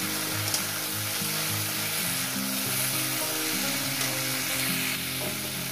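Vegetables fry in a pan as the base for a mrigal fish curry, giving a constant, close, crackling sizzle with faint stirring and no voices.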